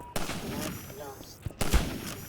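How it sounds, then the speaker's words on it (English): Sniper rifle shots ring out in the video game Half-Life 2 as two sharp, loud cracks with short echoing tails, about a second and a half apart, with some talk in between. "I'm just getting sniped"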